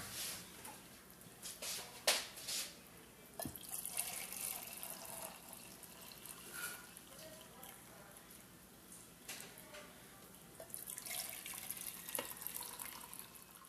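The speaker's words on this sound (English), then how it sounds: "I will add 4 cans of water" Water runs and splashes into a cooking pot in uneven bursts as four cans are poured in, with clinks and handling noises, fairly quiet and close.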